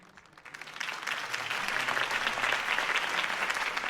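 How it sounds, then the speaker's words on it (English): Video game crowd applause swells from a few scattered claps into steady, dense clapping, sustained and moderately loud with no talking. "If only Mr. Wayne, my campaign's largest backer, could have heard that applause"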